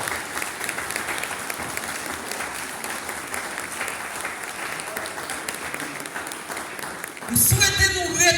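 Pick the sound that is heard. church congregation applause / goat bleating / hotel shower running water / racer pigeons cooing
church congregation applause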